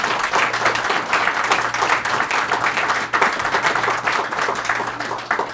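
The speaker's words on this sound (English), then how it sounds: "Let's give him a round of applause." Audience applause at a museums partnership event of the Greater Manchester Chamber, a steady dense clapping from a room of people that runs the full length without voices.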